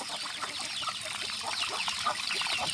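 Chickens clucking and squawking near a forest settlement, a steady chorus of overlapping fowl calls with no talk.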